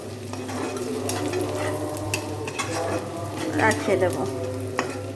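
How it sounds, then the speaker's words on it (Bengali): Eggs stirred into softened onions in a frying pan, with steady sizzling and a busy run of spatula scrapes and clinks. A voice speaks briefly over the cooking. "ডিমগুলো দিয়ে একটু নাড়াচাড়া করে"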